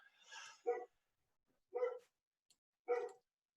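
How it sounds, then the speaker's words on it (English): Dogs bark in the background, three separate short barks, the first a longer yelping sound, moderately distant and quiet between the barks, with no talk. "And I apologize for the dogs."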